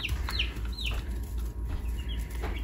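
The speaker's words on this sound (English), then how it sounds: "Let you guys know the meat birds are doing great." Meat chickens in their pen give soft, scattered clucks and short chirps over a steady low background hum, fairly close and continuous with no talking.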